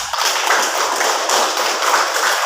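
A group of children in a classroom clap their hands together, a dense, continuous patter of many claps that stays loud and even throughout.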